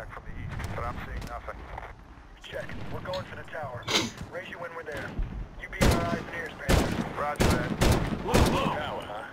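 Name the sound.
gunfire from enemies shooting, video game Medal of Honor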